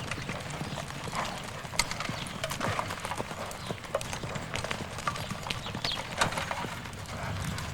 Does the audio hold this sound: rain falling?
no